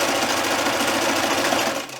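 A sewing machine stitching fleece with a decorative or zigzag stitch, running continuously with a fast, even mechanical whir and rapid needle chatter, close and loud, with no voices.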